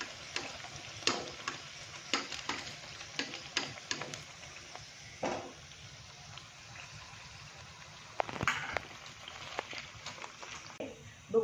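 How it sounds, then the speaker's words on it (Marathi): Bajra puri deep-frying slowly in oil on low heat, a faint, steady sizzle with soft crackles and occasional louder pops, heard alone and fairly quiet. "तर असं मंद आचेवरती आपल्याला पुरी तळून घ्यायची आहे मैत्रिणींनो।"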